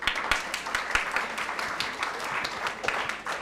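School quiz audience applauding, dense hand clapping at moderate level lasting several seconds with distinct sharp claps standing out from the steady patter.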